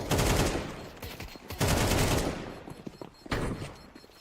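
Gunfire exchanged in long-range duels during a competitive esports match, dense loud bursts of rapid shots in three clusters over a few seconds.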